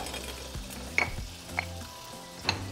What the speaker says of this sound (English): melt 4 tablespoons of butter. Once the butter melts, we're going to add 2 medium-sized potatoes